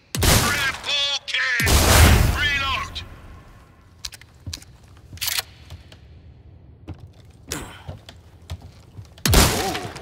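Sharp single gunshots at the shooting range in Resident Evil 4, spaced irregularly and followed by short mechanical clicks, with an announcer's voice and other voices speaking loudly over parts of it.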